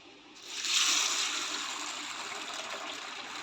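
Water pours over sago pearls (sabudana) in a bowl for soaking. It starts as a sudden close rush, peaks, and then eases into a steady, softer gush.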